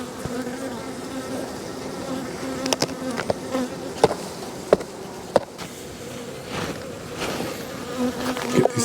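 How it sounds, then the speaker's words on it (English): Dense, steady buzzing of many honeybees at an opened hive in an Australian bee yard, a continuous close hum with occasional brief louder passes of individual bees near the listener. "You can see there are bees."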